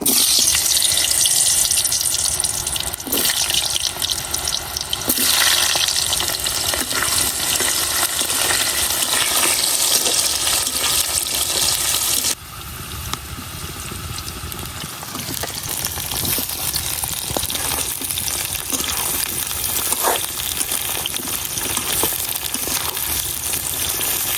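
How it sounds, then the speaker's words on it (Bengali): Potatoes fry in oil in a wok, giving a continuous close sizzle with occasional clinks and stirring scrapes; the sizzle drops in level partway through and then carries on steadily. "প্রথমে আলুগুলা বাজিয়ে নিতেছি"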